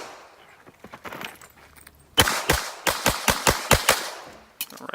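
Pistol shots fired during a USPSA practical shooting stage at Fredericksburg: a rapid string of about eight loud, sharp cracks in quick rhythm after softer clatter and movement, with one more shot near the end.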